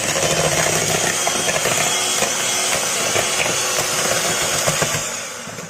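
An electric mixer whirs steadily through homemade orange cake batter made with oil and a spoon of vinegar, a loud continuous motor drone with gritty beating texture that eases off slightly at the end.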